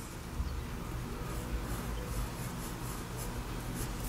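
A pencil drawing a rounded line on paper around the hip and thigh of a figure, giving a faint, continuous scratchy rubbing that runs steadily with no talk.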